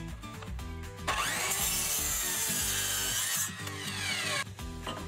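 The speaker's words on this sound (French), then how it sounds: "Ensuite, je suis venu régler la scie à onglet pour faire la découpe." A miter saw cuts through a wooden roof purlin for a tiny house build: the motor spins up, a loud, harsh bite into the wood lasts about two seconds, then the blade winds down.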